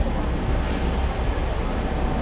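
A train passes near the Zhuhai–Macau border as a continuous, fairly loud broadband rumble and roar with steady wheel noise, heard from street level on a short stretch with no talking.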